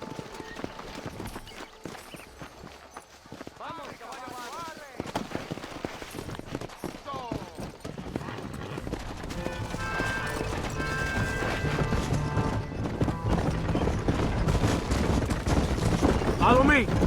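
Horses gallop with steady clip-clop hoofbeats in the Red Dead Redemption video game, growing louder and denser over time, mixed with game music and spoken dialogue.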